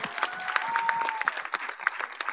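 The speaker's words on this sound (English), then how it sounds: "Can we give another big round of applause to our graduating students?" Applause for graduating nursing students at a Morgan State University pinning ceremony comes as a steady crowd clapping that is moderately loud and fills the room, with no talk over it.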